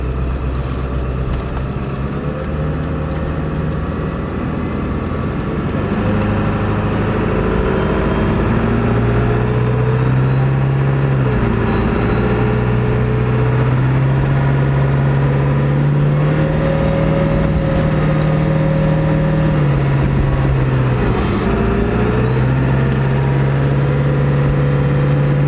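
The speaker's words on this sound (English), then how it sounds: "I am gonna get the first little acceleration in daylight on camera for you guys" A Ford 7.3L PowerStroke diesel truck revs and accelerates in repeated pulls, its deep engine note rising and dropping through several gear changes, loud and close with no talking.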